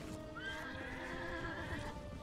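Horses of mounted archers in the video game Mount & Blade: Warband (Anno Domini 1257 mod) give a faint whinny over soft, continuous hoof clatter, quiet and a little distant.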